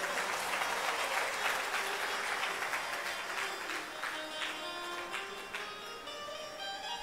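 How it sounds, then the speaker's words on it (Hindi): An audience at a Hindi religious discourse claps steadily for about seven seconds, a sustained wash of many hands at even loudness that eases slightly toward the end, with no one speaking over it. "तालियां कुछ ज्यादा मरी मराई नहीं बजी हैं।"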